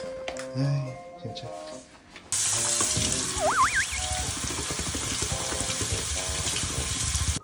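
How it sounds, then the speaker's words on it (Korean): Tap water rushes into a large toy water gun, a steady loud flow that starts abruptly after a couple of seconds of quieter sounds and voices, then continues without a break. "자 이거를 열어서 물을 담아줄게"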